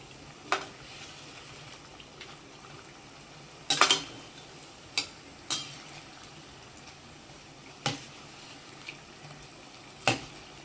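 Wheat flour bondas frying in hot oil give a low steady sizzle, broken by several sharp clinks and scrapes of a metal ladle turning them in the pan, with no talk.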